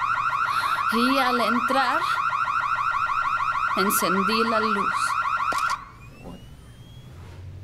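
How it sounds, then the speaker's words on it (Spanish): A loud electronic alarm in a film scene wails with a steady, rising-and-falling siren tone for several seconds, then cuts off abruptly; someone speaks over it in Spanish. "¡Ve a apagar la alarma!"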